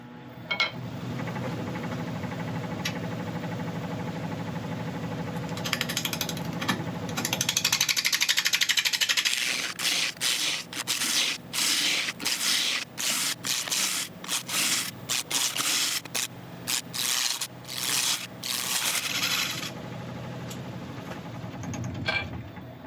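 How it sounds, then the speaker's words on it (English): Wood lathe spinning a burl blank at about 750 RPM, with a steady low rumble giving way to a rapid series of sharp, rhythmic scraping cuts as the tool bites the uneven surface, close and fairly loud. "we're going to start turning at about 750 RPM"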